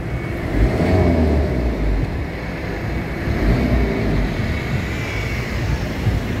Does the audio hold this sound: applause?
no